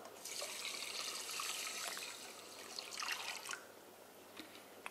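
Water poured into a pot of sticky rice for cooking, a steady splashing, trickling stream that runs for several seconds, close and moderately loud, with no talking.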